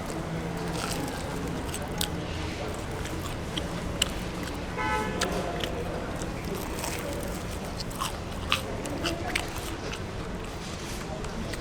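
Someone bites and chews crispy glutinous rice twisted doughnuts (kkwabaegi) at Gwangjang Market, with soft crunches over busy street noise, people talking nearby and an occasional car horn.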